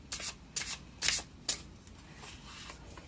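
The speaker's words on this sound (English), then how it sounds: "If you don't like listening to me shuffle, just fast forward" Thin tarot cards riffled and shuffled by hand in quick bursts, a few crisp flutters followed by softer shuffling, close and fairly quiet.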